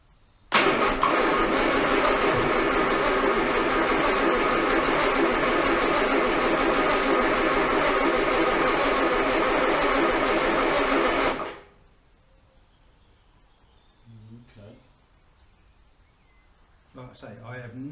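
The engine of an Armstrong Siddeley Special car cranks steadily and loudly for about eleven seconds before stopping. Quiet voices and small clunks follow afterward.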